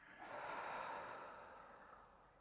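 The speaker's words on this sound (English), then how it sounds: "and breathing out." One slow, mindful breath out, a soft airy exhale that swells and then gradually fades over about two seconds, very faint and close, with no talking.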